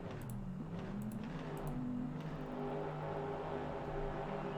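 Several race car engines in a racing video game revving and droning together at a distance on the Fuji circuit, a continuous layered roar with rising and falling pitch.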